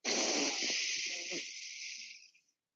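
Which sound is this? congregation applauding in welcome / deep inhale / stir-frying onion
deep inhale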